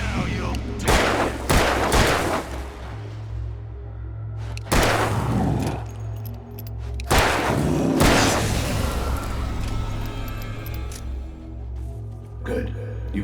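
Gunfire in the video game Alan Wake: several sharp, loud shots in bursts roughly every couple of seconds, ringing out over a steady low drone, with voices talking between them.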